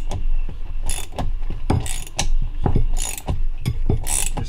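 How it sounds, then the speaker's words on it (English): Gears are pulled off a K series transmission countershaft with a puller tool, producing a series of sharp metallic clicks and ratcheting knocks in an irregular rhythm, close and loud. "we're going to split these gears off right here"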